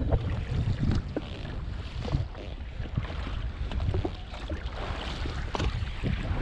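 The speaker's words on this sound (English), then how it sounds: "Wind starting to pick up again." Wind rises over a boat on open water, buffeting the microphone with a continuous, loud, gusty rush and occasional knocks.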